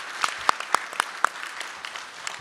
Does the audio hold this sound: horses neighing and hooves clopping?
no